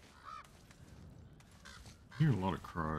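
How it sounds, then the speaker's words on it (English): Crows and ravens cawing in God of War: a few hoarse, raspy caws, faint at first then louder and closer near the end, with someone talking. "A lot of crows, ravens."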